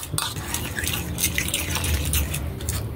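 A spoon stirs a mashed sardine and chopped malunggay mixture in a bowl, giving steady close scraping and soft wet squelching, continuous and fairly loud with no talking.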